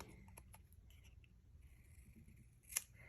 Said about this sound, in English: I'm just going to fussy cut the word out